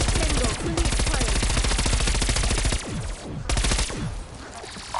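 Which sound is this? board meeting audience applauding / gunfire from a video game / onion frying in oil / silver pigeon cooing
gunfire from a video game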